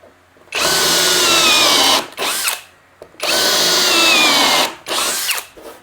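A power drill bores holes into a wooden speaker box handle in two long, loud whining bursts. Each burst is followed by a shorter spurt and a pause, close up and with no talk.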